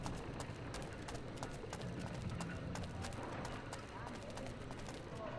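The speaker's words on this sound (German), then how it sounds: "Hopp, hopp, hopp. Pferdchen, lauf, galopp." Hooves of a galloping horse in Assassin's Creed Identity clatter in a quick, continuous rhythm, faint and steady, with someone talking over them.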